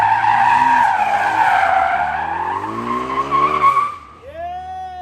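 A Toyota AE86 drifting, its tires squealing loud and sustained with a wavering pitch, under a droning engine that rises and then drops away near the end.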